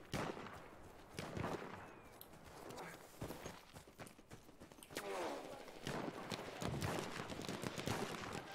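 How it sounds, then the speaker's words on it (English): Horse hooves clip-clop in Battlefield 1 amid dense gunfire and battle noise, the hoofbeats loud and close in irregular bursts, partly masked by shots. "Horse."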